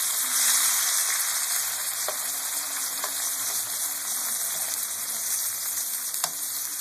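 Tomatoes cooking down in a hot pan for eggplant funghetto, giving a steady broadband hiss of sizzling and frying that holds evenly throughout, close and fairly loud, with a faint tap or two.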